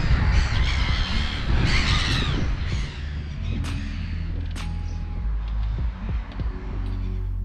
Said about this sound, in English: they seem to have a bit of a seagull problem on their buildings